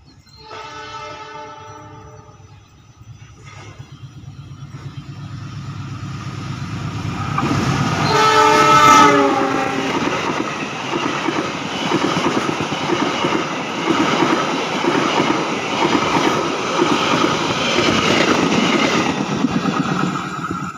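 The Sancaka passenger train rumbles past nearby in Jombang, its horn blaring loudly partway through, followed by a long steady roar and rhythmic clatter of wheels on rails.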